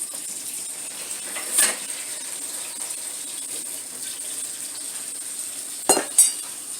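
A beaten egg mixture for healthy scrambled eggs sizzles faintly and evenly in a pan, with a few sharp scrapes and clicks of a utensil against the pan.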